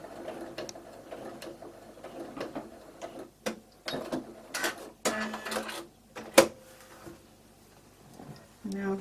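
A sewing machine stitches along a marked line in a foundation-pieced quilt block, running in short, quiet bursts separated by pauses, close by and alone.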